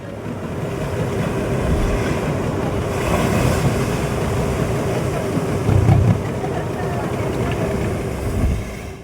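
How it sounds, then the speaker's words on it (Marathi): A boat moves over sea waves near Tarkarli on the Malvan coast, with a steady low engine drone and water wash running throughout, swelling briefly near the end. "इथूनच आपली बोट पुढे सरकते"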